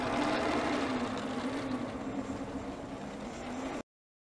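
A B990 quilting machine stitching an edge-to-edge pattern runs in a steady, loud mechanical whir with a constant motor hum, continuing unbroken until it cuts off abruptly near the end.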